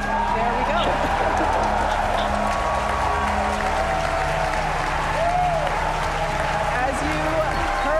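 Crowd cheers and applause rise at Starship engine cutoff during a launch, a broad steady roar of many voices and clapping filling the whole stretch, with a voice talking over it.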